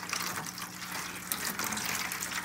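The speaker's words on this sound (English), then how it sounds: "You put the water in here." Water pours steadily into a seed planting tray as a continuous splashing, gushing stream, fairly close and moderately quiet, with no talk.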